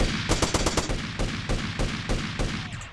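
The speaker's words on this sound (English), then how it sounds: "Oh, pistol is automatic? Really?" Automatic pistol fire in GTA San Andreas: a rapid burst of about six shots, then several evenly spaced single shots, loud and close with no talk.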